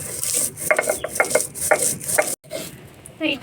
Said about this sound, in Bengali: শুকনো মরিচটাকে খুব সুন্দর করে বেটে নিয়েছি